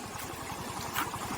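A tractor engine runs in a farm field, a steady nearby idle-like chug with a regular low pulsing rhythm and no voices.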